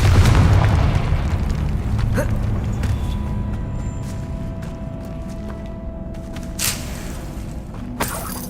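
The Confringo fire spell in Hogwarts Legacy blasts with a loud booming burst at the start, followed by a sustained rumbling wash and a few later sharp cracks.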